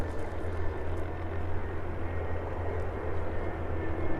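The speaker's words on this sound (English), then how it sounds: "The Spitfire also making its way out right on time." A Supermarine Spitfire departing East Midlands airport, its piston engine a steady, droning rumble at moderate distance, holding even without any talk.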